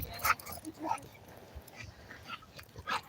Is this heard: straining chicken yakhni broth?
no